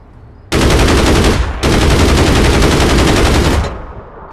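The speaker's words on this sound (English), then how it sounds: "I was shooting at him." Loud, close automatic gunfire from the online shooter game APB Reloaded comes in two long sustained bursts with a short gap between them, then fades into a lingering echo.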